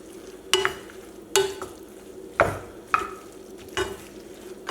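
Seasoned Israeli couscous being mixed in a pot, five separate scraping strokes of a spoon spaced about a second apart over a soft background hiss.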